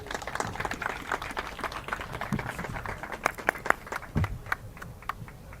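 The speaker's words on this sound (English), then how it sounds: "can we give her a round of applause, please?" Scattered, uneven clapping from a small audience at a Tree of Hope evening, individual claps audible and thinning out, with a few louder close claps and some low thumps.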